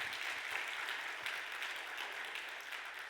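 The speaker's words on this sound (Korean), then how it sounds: "우리 인사할 때 뜨겁게 박수 한번 주시기를" A congregation claps together during a Sunday church service, a steady, faint wash of hand claps that holds evenly throughout without voices.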